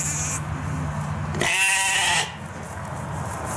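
A ewe bleats loudly and close by as her lamb is lifted away from her, one drawn-out wavering call over a low farmyard hum, at a lamb petting day.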